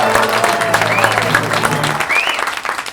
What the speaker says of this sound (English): So please, a round of applause for our special guest comedian